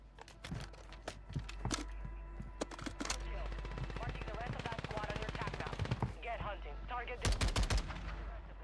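Rapid automatic hip-fire gunshots in the video game Warzone, with a Fennec in use: dense bursts of cracking shots run for several seconds and end in a loud final burst, with game sound underneath.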